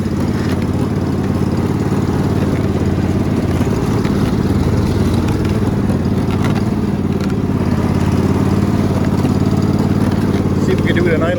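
A riding lawn mower engine idles with a steady low rumble, close and constant throughout, out in thick woods, with a voice talking over it at times.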